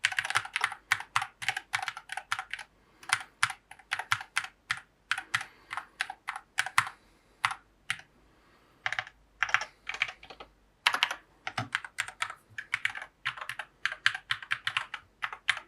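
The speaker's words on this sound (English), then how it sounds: "we'll actually listen to this keyboard in action" Fast, steady typing on a Chronos 68 rapid trigger magnetic mechanical keyboard, crisp clacky keystrokes in rapid bursts with brief pauses, close and clear with no talking.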